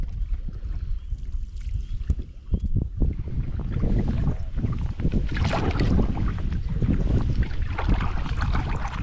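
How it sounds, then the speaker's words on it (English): A canoe is paddled across a lake, with soft splashes and dips of the paddle strokes over breezy wind rumble at the microphone, fairly quiet and close. "currently Ryan's just paddling me around while I do this video"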